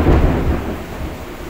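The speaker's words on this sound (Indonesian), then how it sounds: "hujan gede dari sore" Heavy rain pours with rumbling thunder on an evening that has been stormy since late afternoon, a loud, dense wash of sound with a deep roll that swells at the start and eases slightly, with no voices.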